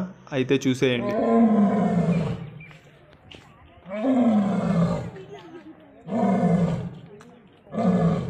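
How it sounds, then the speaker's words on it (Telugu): A lion at Nehru Zoological Park in Hyderabad gives a series of deep roars in long rising and falling bursts, strong and fairly close, with brief speech from a person at the start. "మీరు ఎప్పుడైనా సింహం గర్జించేది డైరెక్ట్ గా విన్నారా?"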